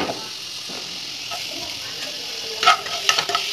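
Egg gravy ingredients heating in oil in a pan make a soft, steady sizzle, with a few sharper stirring scrapes and crackles toward the end.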